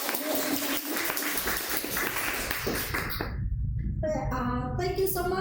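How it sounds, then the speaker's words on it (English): Audience at a Toastmasters club meeting applauds the Grammarian with dense, steady clapping for about three seconds before a single voice begins speaking. "please give her a big applause"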